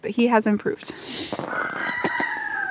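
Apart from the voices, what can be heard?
rooster crowing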